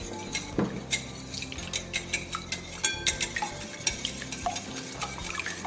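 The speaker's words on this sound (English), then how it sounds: "Beat your eggs." Eggs beaten in a bowl for a carrot cake loaf, a quick run of rhythmic whisking and clinking strokes, close and steady, with no talk.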